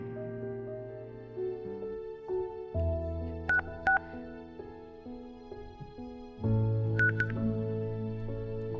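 A phone number is keyed in, with short beeping tones over a soft musical background, a few quick presses in two small clusters.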